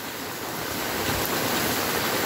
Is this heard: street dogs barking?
no